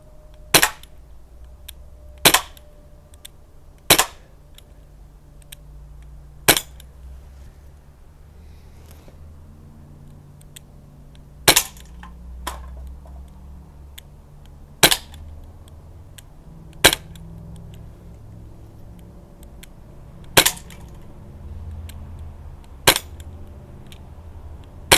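A Crosman Mako air rifle fires at cans outdoors, giving about a dozen sharp, isolated cracks spaced a few seconds apart over a faint background.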